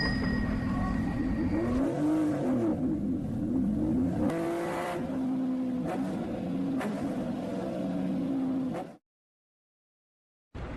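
A heavy motorcycle engine revs up close in rising and falling bursts over a steady rumble, then cuts off abruptly into silence.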